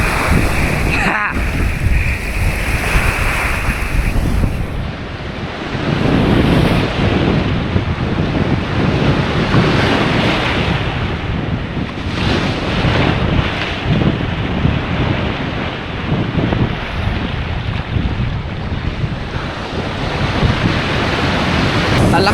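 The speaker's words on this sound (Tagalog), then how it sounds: "Ang lakas ng alon." Loud rushing surf and churning water after a typhoon mixed with heavy wind buffeting the microphone, a constant roar with surging swells.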